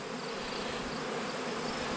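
Honeybees buzz continuously around a beehive in an apiary, a dense, steady hum with no pauses, heard close and moderately loud without any voices.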